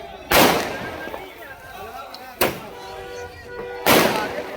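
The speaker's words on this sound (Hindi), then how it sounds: "जोरदार आतिशबाजी की गई।" Three loud celebratory fireworks burst a couple of seconds apart outside a home to welcome someone back, each a sharp boom with a crackling tail, over a background murmur of a crowd.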